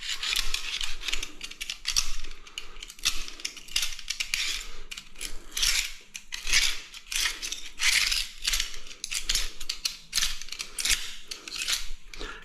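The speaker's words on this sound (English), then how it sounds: "you just give it a light scrape out" Tiling knife scraping out partly set green tile adhesive, a series of short rasping scrapes repeating in an uneven rhythm, close and fairly loud.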